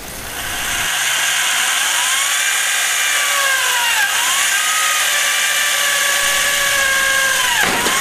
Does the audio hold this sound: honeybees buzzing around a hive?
no